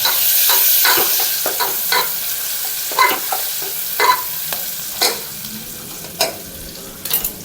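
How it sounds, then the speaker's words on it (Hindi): Paneer fries in a pan with a steady, close sizzle, broken by a spatula scraping and stirring roughly once a second. "अब ये जो है थोड़ा पनीर फ्राई कर लेते हैं।"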